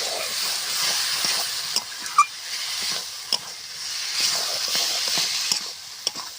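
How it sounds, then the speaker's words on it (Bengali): Egg and eggplant fry in spiced masala in a pan, a steady hissing sizzle punctuated by sharp taps and scrapes of a spatula stirring, with no talking. "ডিম আর বেগুন দিয়ে মশলার সাথে সুন্দর করে আমি কষিয়ে নেব।"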